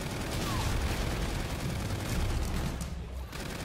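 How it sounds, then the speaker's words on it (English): Rapid automatic gunfire from a sentry gun in a zombies shooter game, a dense continuous clatter of shots filling the whole stretch, with faint voices underneath. "You put the sentry gun down. Yeah. Killing everything."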